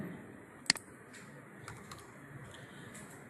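Keys on a computer keyboard are tapped while a password is entered, producing a few soft, scattered clicks with one sharper keystroke near the start, faint against a quiet room background.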